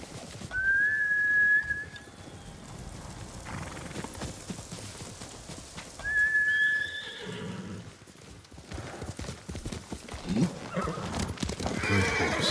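A horse in the samurai video game Ghost of Tsushima whinnies twice, each a loud, sharp neigh with a ringing tail, while its hooves clip-clop steadily underneath and a faint bird call sits in the background.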